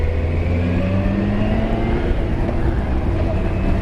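A Kawasaki ZX14 motorcycle cruising on an Arizona road toward Gila Bend gives a steady, loud engine drone with wind rush, heard close and continuous with no talk.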